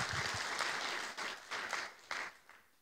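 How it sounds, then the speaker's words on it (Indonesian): Congregation applauding inside a church during a worship service, a dense wash of clapping that fades in bursts and tapers off toward the end, moderately distant. "Kasih tepuk tangan bagi Tuhan Yesus."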